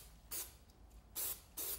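Spray glue hisses from a can onto corner blocks in three short bursts, separated by brief pauses, close and clear with no talking.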